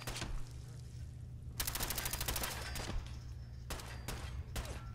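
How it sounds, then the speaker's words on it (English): Gunfire in the video game Fallout 4, bursts of rapid automatic shots rattling close and loud, with a long sustained volley in the middle and a few sharp single shots after, over a steady low hum. "I'm just firing blindly."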